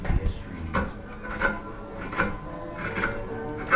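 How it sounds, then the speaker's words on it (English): A rasp shapes a curved wooden leg for a blockfront lowboy, giving repeated rough scraping strokes in a steady rhythm, close and fairly loud with no talking. "I have to use a rasp or a file for doing the shaping, the final shaping"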